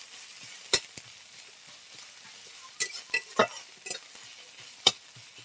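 Onions fried until reddish sizzle faintly in a pan, with ginger garlic paste stirred in; sharp scraping stir strokes and clinks stand out over a soft, steady frying hiss.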